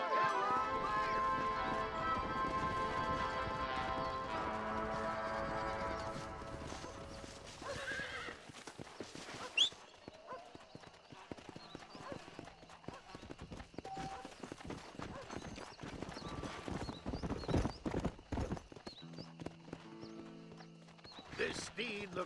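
Horse hooves clip-clop in the Red Dead Redemption video game, a restless wild horse snorting and whinnying amid steady hoofbeats, with game music early on and voices talking over parts of it.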